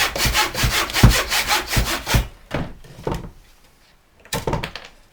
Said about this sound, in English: So I have to cut this piece 3/4 of an inch to account for that mortise.